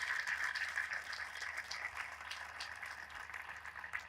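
A congregation at a Christian prayer meeting claps at a distance in a steady, faint wash of applause that eases off slightly toward the end.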